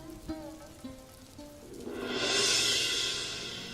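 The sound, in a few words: rain starting to fall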